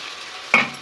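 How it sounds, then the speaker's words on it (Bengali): A paste of cashews and melon seeds lands in a hot pan with a sudden close sizzle and stir, the frying hiss fading over under a second. "এবার আমি দিয়ে দেবো যে পেস্টটা করেছিলাম কাজু চার মগজের পেস্টটা আমি দিয়ে দেবো"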